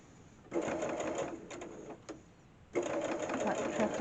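A sewing machine runs a straight stitch in two close, steady whirring runs separated by a brief pause with a couple of light clicks.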